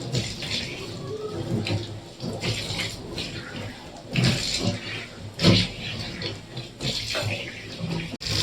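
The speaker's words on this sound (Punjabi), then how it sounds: "ਹੁਣ ਆਪਾਂ ਤੁਹਾਨੂੰ ਧੋ ਕੇ ਦਿਖਾਉਂਦੇ ਆ ਸ਼ਿੰਕ ਚੰਗੀ ਤਰ੍ਹਾਂ" Tap water runs steadily into a kitchen sink as it is rinsed, a close, continuous splashing stream with occasional louder gushes.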